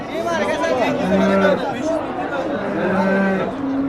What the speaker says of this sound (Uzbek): Rossiyskiy poroda sigirga.